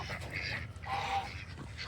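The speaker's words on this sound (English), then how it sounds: "Come on, ducks. Come out." Ducks quack and honk at feeding time near a backyard coop, a cluster of raspy calls overlapping close by with no pause.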